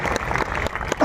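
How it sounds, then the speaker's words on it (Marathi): Audience at a comedy speech event in Buldhana breaks into loud, dense clapping that fills the whole moment, with some voices mixed in. "साहेबांचं आगमन झालेलं, एकदा जोरदार टाळ्या होत्या."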